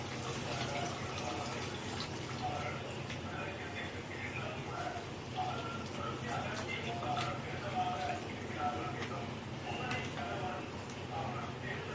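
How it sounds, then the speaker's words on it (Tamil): Tamarind water pours steadily into a pot of fish curry, a continuous watery splash running throughout at moderate level, with people talking over it. "இப்ப பாருங்க, புளி தண்ணி ஊத்தல."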